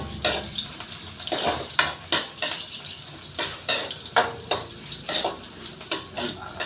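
Onion frying in a pan while cooking mussels: a soft sizzle under a steady rhythm of utensil scrapes and clinks against the pan, close and moderately loud.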